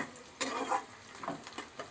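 Onion, garlic and ginger fry in a pan, a soft sizzle broken by a few brief scraping stir strokes, close and fairly quiet.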